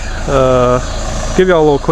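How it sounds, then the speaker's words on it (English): A 2014 Chevrolet Cruze revs twice at close range from the tailpipe, a sustained rising drone followed by a shorter second rev, loud and throaty. "exhaust video. Have the camera right down toward the tailpipe, and I'll do a couple of revs."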